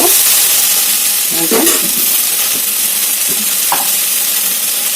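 Okra and onions fry in a pan with a loud, continuous sizzle, broken by a few scraping stirs of a spoon against the pan, close up.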